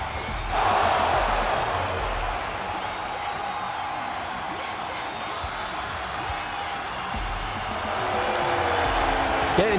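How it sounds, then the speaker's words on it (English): Crowd noise from a wrestling video game as the Pig enters, a sustained loud wash of voices that may be booing, steady throughout with a swell near the end, people talking over it. "Getting boos here, the Pig is, from the crowd."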